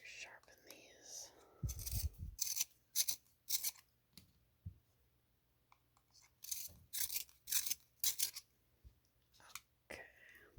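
Watercolor pencils are sharpened up close in short scratchy bursts of rasping, with soft quiet gaps and a whispering voice at times.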